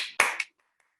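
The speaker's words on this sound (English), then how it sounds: "We'll do a loud clap for everyone in the group." A workshop group claps together in one loud, sharp burst with a smaller follow-up clap right after, then quiet.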